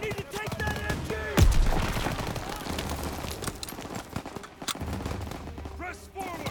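Machine-gun bursts crackle through a dense Call of Duty WWII battle in the Death Factory mission, with rapid gunfire layered over constant combat noise and a sharp loud crack near the start, while voices shout in the mix.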